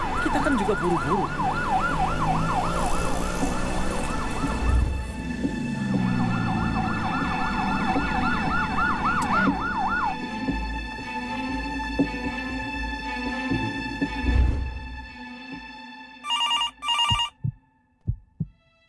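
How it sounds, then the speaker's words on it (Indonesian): An ambulance siren wails loudly through the first half over road noise and then cuts out, followed by ringing tones and a few sharp thumps. "Pasti ini ambulans."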